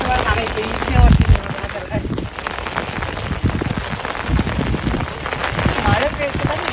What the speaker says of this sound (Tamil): ஃபுல்லாவே சுற்றி நல்ல மழைங்க.